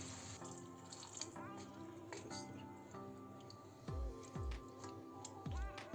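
Water pours into a clay güveç pot holding a meat and chickpea stew, with a steady splashing trickle and a few louder gurgling glugs near the end, heard close and alone.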